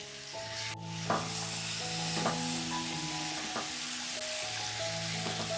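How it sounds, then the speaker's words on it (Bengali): Small potatoes with peas, spices and salt sauté in a pan, frying in a dense continuous sizzle with a few scraping stirs, a low steady hum running underneath. "দিয়ে আবারও ভালোভাবে কষিয়ে নেব।"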